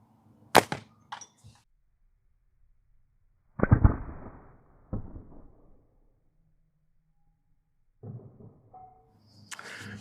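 A Pocket Predator Poacher slingshot fires a shot: a sharp snap, then a louder smack a few seconds later, with faint handling clicks and rustles around them in a quiet setting.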